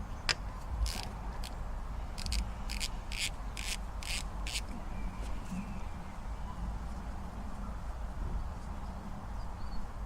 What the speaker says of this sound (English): I'll also loosen this oil cap bolt and relieve the pressure in it as well.